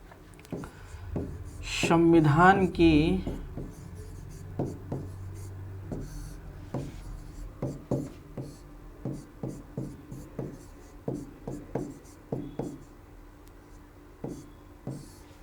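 Chalk or marker writing on a board during a polity class, a steady series of short taps and scratches at close range, following a brief stretch of talk.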